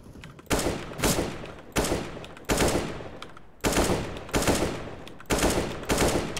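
Gunfire in the video game CS:GO, repeated rapid automatic bursts, each a loud sharp attack trailing off, six or so in regular succession.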